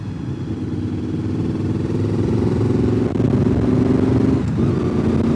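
A motorcycle engine runs at a steady, loud drone with a slight clattering edge and holds an even pitch throughout, with no voices heard.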